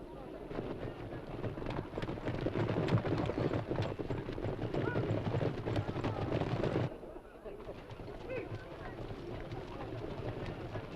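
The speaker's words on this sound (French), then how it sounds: "Les taureaux choisis sont cernés par les chevaux et c'est la course vers l'arène." Horses gallop in a dense, rumbling clatter of hooves while driving bulls toward an arena at a festival, loud and continuous before cutting to a fainter, more distant passage.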